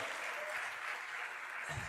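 Church congregation applauding, a steady broadband wash of many hands clapping at moderate distance, continuous and even throughout, fading slightly toward the end.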